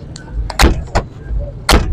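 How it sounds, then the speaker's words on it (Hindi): The doors of an FX car, model 86, are shut one after another, giving three close, solid thumps with lighter latch clicks between them. "बिल्कुल हल्के दरवाजे हैं और बड़े प्रॉपर क्लोज हो रहे हैं"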